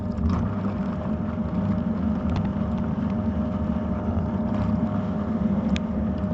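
The small motor of a Malyutka 2 washing machine hums steadily and continuously at close range, a constant droning whir with no pauses and no voices.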